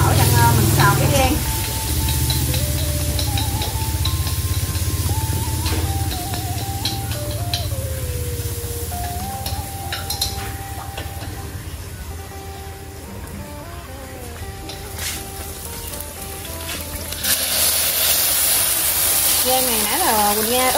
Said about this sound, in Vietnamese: Bây giờ mình chỉ bắt mình xào gan vậy thôi.